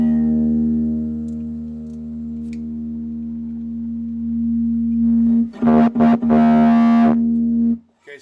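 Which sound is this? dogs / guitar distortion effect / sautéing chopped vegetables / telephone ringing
guitar distortion effect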